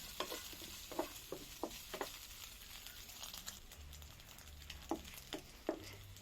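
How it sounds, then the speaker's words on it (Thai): Pork fat renders into lard in a pan, giving a quiet, continuous frying sizzle broken by scattered sharp ticks and scrapes of stirring, close but faint, with no one speaking. "เจียวให้น้ำมันหมูออกมาเลยครับ"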